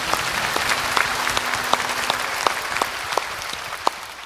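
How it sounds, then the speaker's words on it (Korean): Church congregation at Hallelujah Church claps together in a steady, dense round of applause, with sharper individual claps standing out now and then and no talking over it. "우리의 반석이 되시는 주님 앞에 큰 영광의 박수를 드립니다."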